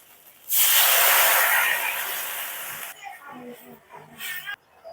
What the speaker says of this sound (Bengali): বন্ধুরা টমেটো পেস্টটা মশলার সঙ্গে ভালো করে কষিয়ে নিয়েছি, এখন এর মধ্যে দিয়ে দেবো জল।